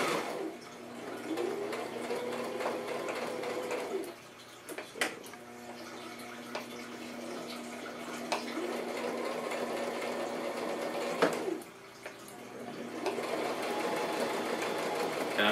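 A sewing machine runs steadily while locking down the seam at the corners of a handmade handbag, humming close with brief stops and clicks between runs.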